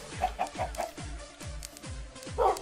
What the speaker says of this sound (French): poulet